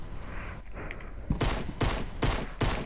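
Rapid gunfire in a zombie video game, fired at a cube in bursts of close, loud shots, four sharp volleys in quick succession.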